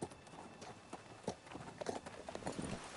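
Horse hooves in the Game of Thrones video game clip-clop on a hard surface, with irregular, fairly close hoofbeats of moderate loudness and no talk.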